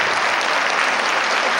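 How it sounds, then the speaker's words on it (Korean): A television talk show audience breaks into loud, dense applause, a steady wash of clapping hands that fills the whole short moment without any voice over it. "강원래 씨에게 다시 한번 뜨거운 박수 부탁드립니다"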